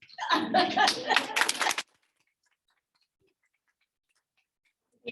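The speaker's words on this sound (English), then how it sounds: "I was giving you applause." Short, lively applause follows a guest talk at a Boy Scouts of America meeting. The clapping is mixed with a little laughter, lasts about a second and a half, then stops abruptly into silence.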